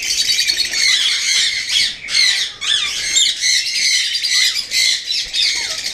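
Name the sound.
Indian ringneck parakeets and African lovebirds squawking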